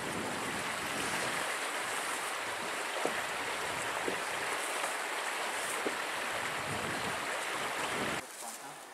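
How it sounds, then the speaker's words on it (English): A small creek flows beside a campsite on the Superior Hiking Trail, a steady babbling rush close by with a few faint clicks. It drops quieter just before the end. "A nice little creek, high."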